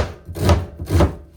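A knife chops through red onions on a cutting board with two firm, evenly spaced thuds, close and distinct with no talk.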